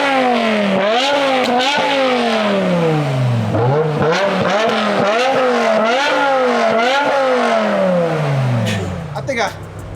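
A BMW E60 M5's V10 revs hard through a new exhaust system, screaming up and dropping back in repeated loud, close sweeps before settling at the end.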